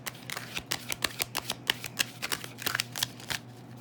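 Tarot cards shuffled close by in quick, crisp riffling bursts, a rapid rhythmic flutter of card edges with no talking.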